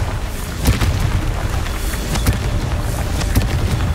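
A Confringo blast curse explodes in the Hogwarts Legacy video game, loud booming impacts with sharp crackling bursts over a dense rumbling backdrop.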